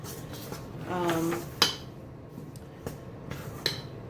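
Whole wheat dough with flax seed meal is stirred in a bowl, giving scattered close clinks and scrapes of a utensil against the dish amid soft mixing sounds, with a brief voice-like tone early on.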